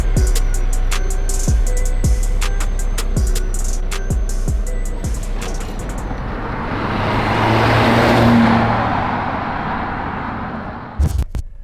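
A lowered Volvo V90R wagon heard from inside on the move, with steady road and engine noise, a run of rhythmic clicks early on, and a swelling rush of air and tire roar midway before settling.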